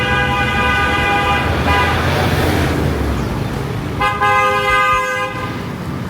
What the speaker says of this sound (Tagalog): Sige, busina kayo.